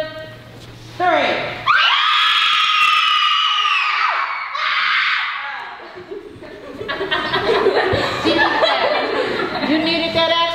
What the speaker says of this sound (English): Y'all to scream as loud as you can.